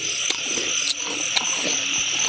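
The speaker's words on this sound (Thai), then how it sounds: "ฟังเสียงกบด้วยครับ" Frogs croak outdoors at night during a frog-hunting outing, a steady chorus of calls with a constant insect-like drone and a few sharper clicks rising over it.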